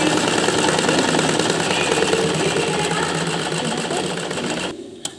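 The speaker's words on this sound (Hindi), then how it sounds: "अब इसको हम ऐसे यहाँ से यहाँ तक ऐसे ही सिलाई कर लेंगे।" Sewing machine stitching frock fabric: a steady, fast mechanical whirr of needle strokes running continuously for several seconds, then stopping abruptly near the end, with no talking.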